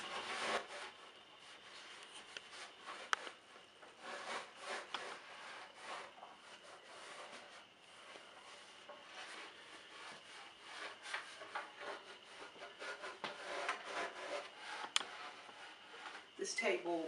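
A wooden table is wiped down by hand, soft repeated rubbing strokes, quiet and close, continuing steadily throughout.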